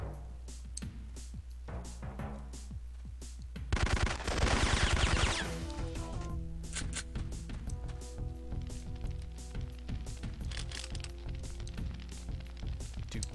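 Gunfire from the Syphon Filter video game pops in scattered shots, then a loud dense automatic burst, followed by quieter clicks and ticking game sounds.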